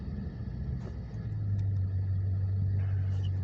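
A 2021 Dodge Challenger Scat Pack with its 392 V8 rumbles while driving, a deep steady engine drone that swells and holds loud from the cabin.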